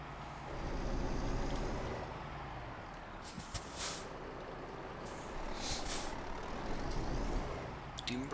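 A Volvo truck in the Euro Truck Simulator 2 video game rumbles steadily, with two bright hissing bursts of air brake release partway through, fairly close and without talk.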